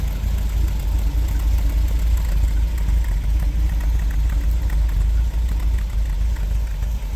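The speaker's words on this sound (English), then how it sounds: "We'll go out back, give you a listen on the tailpipe end here" Idling engine of a 1974 MG MGB, one-owner car, heard from behind at the tailpipe: a steady, loud low rumble that holds even throughout with no speech over it.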